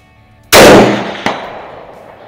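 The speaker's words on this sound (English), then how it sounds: "I'm still shooting over top of it, where I was aiming from before" A single loud, close rifle shot from a custom Mosin Nagant firing hand loads outdoors in strong wind, a sharp blast that decays, with a distinct metallic ping from a steel target about 0.7 seconds later, then a fading tail.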